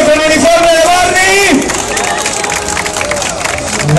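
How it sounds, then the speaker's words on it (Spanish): A crowd at an expo contest claps and cheers in a lively hubbub, with excited voices shouting over the steady applause. "Señores, todos apláudanle, por favor"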